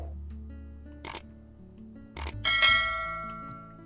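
A cartoon subscribe-bell animation rings out in two quick bright dings, followed by a longer shimmering chime that fades out, set over a low steady game-music bed.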